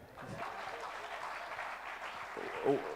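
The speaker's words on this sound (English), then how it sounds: "Can we clap for him?" Applause from the audience at the opening ceremony of a Rotary district conference, a steady wash of clapping held at a moderate level, with speech mixed in underneath and a short louder burst near the end.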